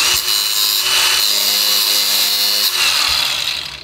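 An angle grinder cuts through metal with a loud, steady high-pitched grinding whine that runs almost unbroken for about four seconds, with a low hum beneath it.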